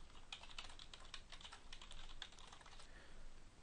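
Typing on a computer keyboard, heard as a quick, fairly steady run of light key clicks with a few louder taps. It is close and faint, with no voices.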